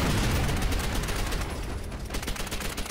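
Gunfire in the World War II shooter Call of Duty: World at War, played in multiplayer on Xbox 360: dense, rapid bursts of shots blending into a loud, continuous barrage with heavy low rumble and no talking.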